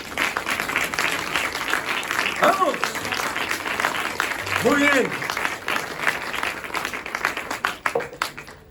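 An audience at a church sermon gives sustained applause, a dense wash of clapping that swells and then tapers near the end while a man briefly calls out over it.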